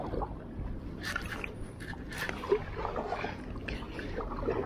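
Kayak paddling on a canal, with soft, steady water swishes and gurgles from paddle strokes close by, plus a light breeze and no speech.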